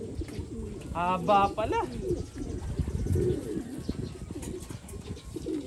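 A homing pigeon coos close by in soft, repeated throaty rolls, with someone talking over it now and then.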